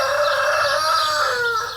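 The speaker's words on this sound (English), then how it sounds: "Got lots of frisky young cockerels over there" A young rooster crows in a long, wavering call, close and clear, with soft clucking beneath it.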